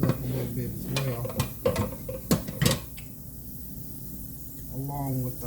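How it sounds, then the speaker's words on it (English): Utensil scraping and clanking in a pan as onions are stirred into a roux for smothered liver and onions, a run of sharp clacks early on, then quieter; someone talks over it. "I always like to brown my onions up a little bit as well,"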